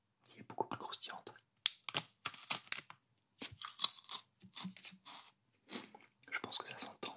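Crisp, close crunching and chewing of a Kit Kat wafer in bursts separated by short pauses, with quiet whispered speech mixed in.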